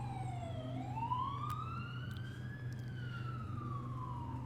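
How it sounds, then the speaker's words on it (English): An emergency siren wails steadily outside, its pitch sliding down and then rising and falling in a long sweep over a constant low hum, moderately distant and heard alone. "siren going by outside."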